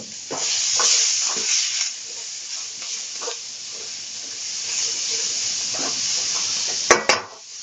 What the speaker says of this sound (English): you could see that the noodles are getting fried in